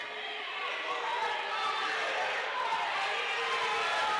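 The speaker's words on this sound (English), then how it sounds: "Lots of noise from the crowd." A crowd in a high school boys' basketball gym keeps up a steady, broad roar of noise and chatter throughout, with no single voice or event standing out.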